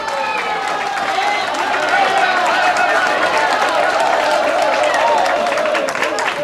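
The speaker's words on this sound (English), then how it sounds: "Crowd really behind Timmy right now" Crowd at a bowling lanes tournament of champions cheering and applauding a bowler's strike, a steady, loud wash of claps and raised voices that holds throughout.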